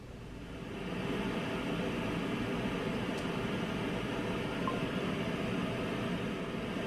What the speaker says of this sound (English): This one, Pink Noise.